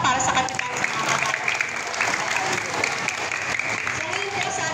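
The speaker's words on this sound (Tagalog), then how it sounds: "isa pa pong malakas sa palakpak para sa kapitan sa mga bata" Applause for a village captain at a Filipino community gathering for children, a steady sustained wash of clapping across the whole stretch with talk mixed in.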